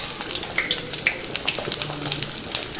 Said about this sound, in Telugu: ముందుగా జీలకర్ర వేసుకుందాం